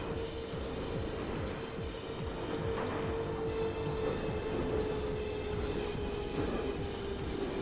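A train running in the BVE train simulator video game: steady rhythmic rumble of wheels over rail joints beneath a sustained motor whine, with faint higher tones, continuous and fairly quiet.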